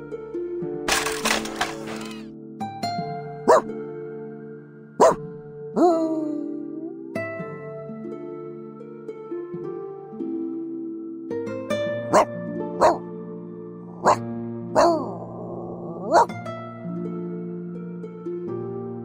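Pickles, a puppy character in the video game Reverse: 1999, gives a series of short, sharp barks and yips spread irregularly over soft background music, with a couple of whimper-like sounds.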